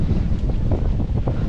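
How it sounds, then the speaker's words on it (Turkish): Strong wind buffeting the microphone in loud, rumbling gusts on a street in Belgium, with no voices. "Ay çok rüzgar var ya"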